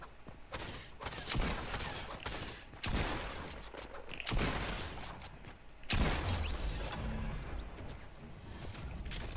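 Repeated sharp shotgun blasts in Fortnite Chapter 2, several loud cracks spaced a second or two apart, each followed by a ringing tail, with clattering mechanism noise between shots.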